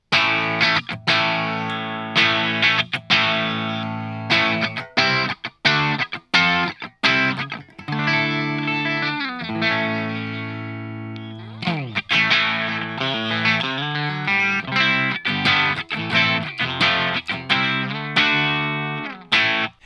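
Distorted electric guitar run through the Quimera System, played in bursts of chords and picked notes with effects, comparing tone with a mini toggle switch on and off; loud and close, no talking.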